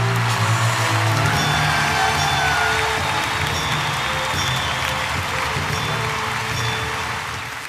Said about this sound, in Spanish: Recibamos con un fuerte aplauso al doctor Fernando y a Lisette